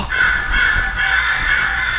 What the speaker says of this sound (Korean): 까마귀!